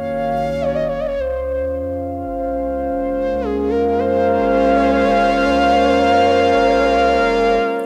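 Music played back through a cassette tape deck with tape monitoring, as heard after passing through the magnetic tape: sustained harmonic tones and shifting melodic lines, steady and fairly loud throughout, with no talking.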